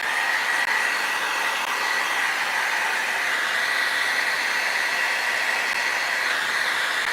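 Heat tool blowing steadily to dry cracking paste, a constant loud airy whoosh with no pauses or talk.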